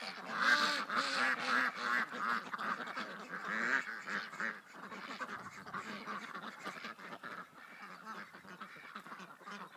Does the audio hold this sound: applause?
no